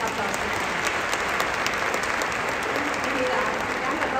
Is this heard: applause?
yes